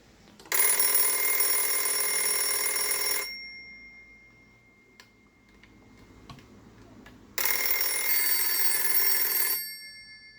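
A 1980 Siemens FeTAp 791-1 telephone from Germany rings loudly with its bright metallic bell in two long bursts, separated by a quiet pause with faint handling clicks.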